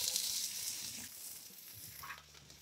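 Capsicum sizzling as it fries in a pan with ginger and garlic, a steady crackling hiss that eases slightly over the short stretch, with no voices.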